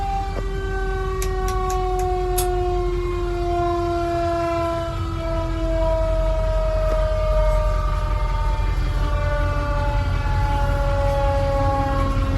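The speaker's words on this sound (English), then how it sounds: "Q siren still working." A Federal Q mechanical siren winds down with a loud, steady howling tone that slowly falls in pitch, droning alone without any voices.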